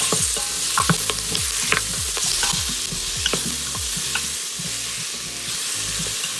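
Tomato goes into a hot pan with homemade ginger garlic paste, sizzling steadily while a utensil stirs and scrapes in repeated, irregular knocks, cooked outdoors in a garden.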